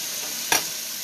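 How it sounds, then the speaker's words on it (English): Food sizzling in a pan beside turkey breasts, a soft steady hiss with one short scraping burst as it gets a stir. "making sure everything's cooking all right, that nothing's sticking, just kind of giving everything a stir"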